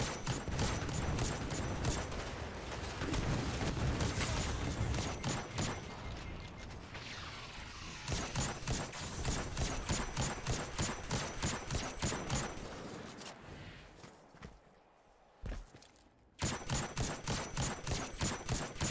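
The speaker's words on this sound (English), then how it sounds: "So we'll just play it nice and safe with our scout rifle." Scout rifle gunfire in the Destiny shooter game: a steady run of evenly spaced shots crackling over a dense, loud game mix, briefly dropping out near the end before the firing resumes.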